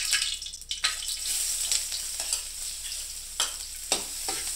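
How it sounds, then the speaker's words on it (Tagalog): Garlic sizzles in hot oil while being stirred for chicken sotanghon, a bright continuous frying hiss broken by several sharp scraping strokes of a utensil against the pan, close and fairly loud. "Mainit na ang mantika. Una namin ilalagay ang bawang."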